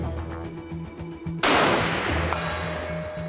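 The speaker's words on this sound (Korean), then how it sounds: "준비되면 사격." A single sharp sniper rifle report cracks out during military target practice at 200 to 300 metres, loud and sudden after a quieter stretch of rhythmic background noise, followed by a long rolling echo that fades slowly.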